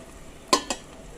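A lid is set over a pan of egg pizza with ladies' fingers, giving two sharp metallic clinks close by, the first louder, then quiet kitchen background.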